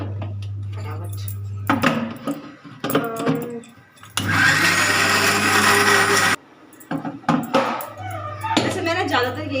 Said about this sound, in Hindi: इसको ग्राइंड कर देंगे फटाफट